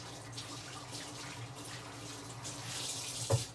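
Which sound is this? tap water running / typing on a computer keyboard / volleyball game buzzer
tap water running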